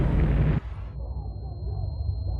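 A hydrogen explosion at Fukushima Reactor 3 bursts out as a loud, heavy boom lasting about half a second, then drops away into a low, steady rumble that continues to the end.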